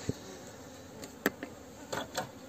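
Honeybees buzz faintly near a hive, a few bees passing close now and then while a low drone carries on underneath, with no one talking.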